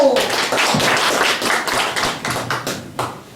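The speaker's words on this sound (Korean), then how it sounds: "박수!" Seminar audience at a natural healing seminar breaks into applause, a burst of close, sharp hand claps from a modest group with loud individual strikes, briefly mixed with a voice.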